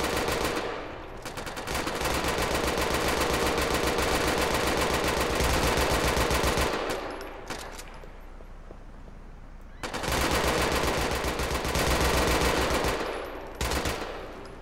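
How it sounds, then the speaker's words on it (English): Sustained automatic gunfire in the video game GTA IV with the LCPDFR police mod, two long loud rattling bursts separated by a quieter gap, with a brief extra volley near the end. "getting shot from somewhere else"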